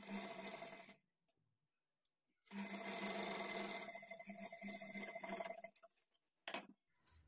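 A sewing machine stitches thread piping for blouse sleeves in two close, steady running bursts, the second longer, with brief quiet pauses between them and a short final burst.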